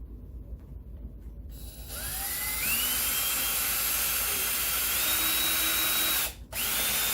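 Power drill driving a screw into particle board for an arcade riser, a whining motor spinning up in a couple of rising steps, holding a steady pitch, briefly stopping, then restarting, close and loud.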